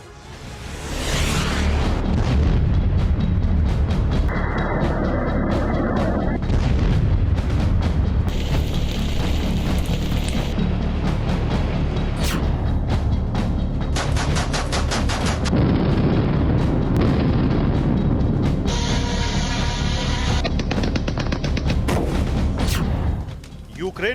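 Missile strikes and artillery shelling hit a city in Ukraine: a continuous, loud barrage of heavy booms and rumbling blasts, layered and dense, running throughout before cutting off abruptly.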